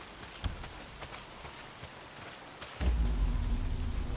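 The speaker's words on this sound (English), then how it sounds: "not if it's pissing down rain" Steady broadband hiss of heavy rain in the video game Days Gone, continuous throughout with faint scattered drops, swelling louder and deeper in the final second and a half.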